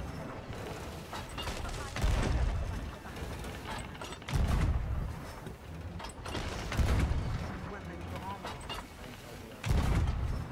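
Repeated heavy booms of cannon and gunfire in a Sea of Thieves naval battle, several loud bursts in a rough rhythm over continuous rumbling game noise.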